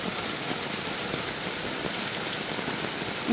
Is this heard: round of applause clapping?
no